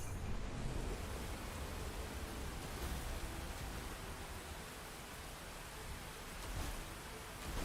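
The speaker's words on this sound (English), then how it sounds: "Oh, the rain sounds so good." Rain falling in the mech strategy game Phantom Brigade, a steady, soft, broadband hiss throughout at low volume, without speech.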